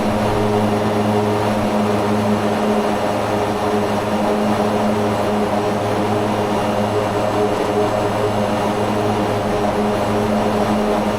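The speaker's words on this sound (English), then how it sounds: "Bring up the power levers, and we're looking for a rotation of just over 100 knots" Twin MU-2B-60 turboprop engines in a flight simulator power up for takeoff, a loud constant droning hum with steady propeller tones, unbroken for the whole stretch and with no talking.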